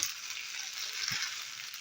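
Soft, steady sizzle of mushrooms frying in a pan with ketchup, with a brief low scrape of stirring partway through; no voices.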